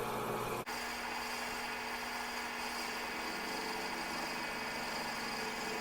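A hand-held power cutting tool machining the valve clearance depressions of an engine, about 2 millimetres deep, gives a steady, loud, high mechanical whine with one brief dip near the start.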